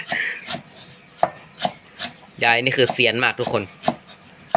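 A knife chops vegetables on a board while northern Thai dishes are prepared, giving sharp, evenly spaced close knocks; someone speaks briefly in the middle.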